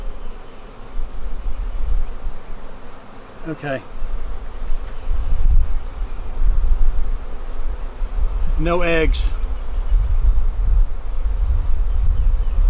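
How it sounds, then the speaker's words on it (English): Bees hum steadily in the background while a person speaks briefly nearby as bees are shaken into a hive; the buzzing stays constant and close throughout. "I'm going to be doing is shaking bees into this hive again."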